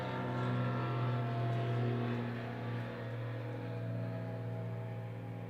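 Steady droning engine of a small private plane flying nearby and coming in to land in wintertime, a continuous hum holding fairly even throughout with no talking.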